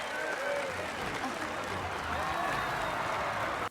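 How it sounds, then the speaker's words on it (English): A crowd claps steadily in a festive movie scene, with sustained applause and voices talking over it throughout. "More clapping."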